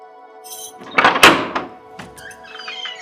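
A household door is opened with a sharp wooden thunk and rattle, followed by a few lighter knocks and a creak, while faint music plays underneath.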